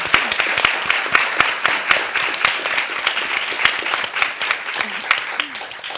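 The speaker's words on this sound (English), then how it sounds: "Let's go ahead and give Bernie a round of applause too" An audience at an artist talk in a library claps together in a dense, sustained round of applause, loud and close, with a voice speaking over it.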